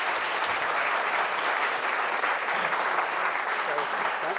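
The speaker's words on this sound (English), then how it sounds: "So give yourselves a round of applause." A graduate-education audience at the Texas A&M Three Minute Thesis finals breaks into sustained applause, a dense, even wash of clapping that continues at a steady level.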